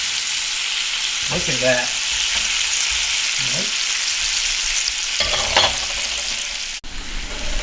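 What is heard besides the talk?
thick-cut homemade bacon sizzling on a Big Green Egg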